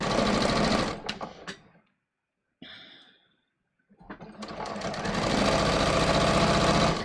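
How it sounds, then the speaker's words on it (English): A sewing machine stitching strips of fabric, running in a loud, rapid mechanical whir, pausing into near silence, then starting again and building back to full speed, close by. "Let me just sew this down."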